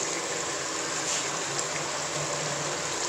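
Water is poured into a cooking pot of chicken and green beans. It makes a steady, continuous rushing splash for about three seconds at moderate loudness, with no voices.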